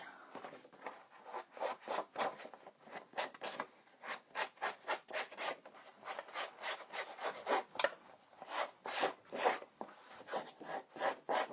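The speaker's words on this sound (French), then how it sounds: "Je vais reprendre mes ciseaux" Repeated crisp snipping and rustling of paper being cut by scissors for scrapbooking, a steady rhythm of short strokes, close and fairly quiet, no voices.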